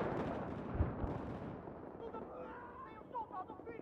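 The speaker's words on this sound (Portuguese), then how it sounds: "O cara toma uma rajada dessa e não morre, cara" A burst of gunfire in the Battlefield 4 video game, a dense rattling volley that dies away into faint clatter, quiet overall, with someone talking afterward.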